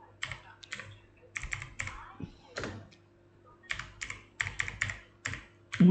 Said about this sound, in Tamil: இந்த இடத்துல வந்து டைப் பண்ணுங்கள்